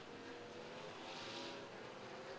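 IMCA stock cars roar around the dirt oval at RPM Speedway, a sustained, far-off engine drone that swells briefly as the field passes, with no voices over it.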